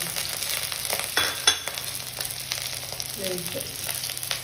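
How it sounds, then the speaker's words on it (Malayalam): Shallots and curry leaves sizzle steadily in hot oil for a shrimp curry. The frying is close and constant, with a few soft stirring clicks and no talking. "ചെറിയ ഉള്ളി 3 എണ്ണം ഇതിൻ്റെ കൂടെ വറുക്കാനുള്ളൂ"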